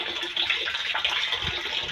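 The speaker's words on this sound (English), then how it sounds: "So the water is dripping in gently." Water running steadily into a catfish fingerling tank, a close, continuous splashing trickle with a bright hiss that holds at an even level throughout.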